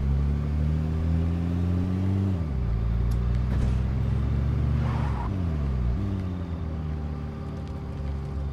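A car engine in the game State of Decay hums at a steady idle, dropping in pitch twice as it shifts, with faint clicks and scrapes in the background.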